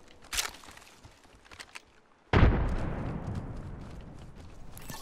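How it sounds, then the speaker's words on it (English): Frag grenade blast in the battle royale game Apex Legends: a sudden loud boom about halfway through, decaying into a long rumbling tail, preceded by scattered faint footsteps and clicks. "Tossing a frag."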